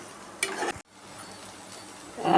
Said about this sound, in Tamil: இப்போ இதை திறந்து வச்சு அடி பிடிக்காமல் நல்லா கிண்டி விடணும்